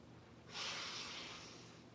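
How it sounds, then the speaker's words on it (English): A deep nasal inhale during a breathing exercise after a home parkour workout, one close rushing intake of breath lasting about a second, then fading into quiet room tone. "Nice deep inhale."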